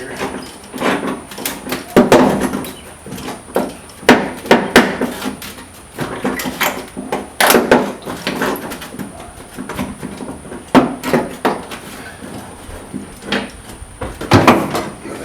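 Trim molding clips are pried loose on a Ford Falcon, giving a long series of irregular plastic snaps, clicks and creaks up close, with scraping between them and a steady high whine in the background.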